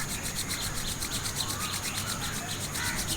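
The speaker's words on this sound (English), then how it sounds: "just rub your both hands together like this" Two palms rubbed briskly together up close, a steady, soft rasping friction that continues without pause, with no talking.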